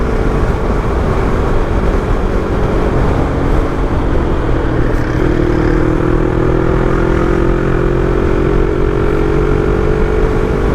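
A modified Yamaha R3 motorcycle with a flash-tuned ECU cruises in a straight line, its engine a steady, loud drone mixed with wind rush that holds constant throughout with no speech.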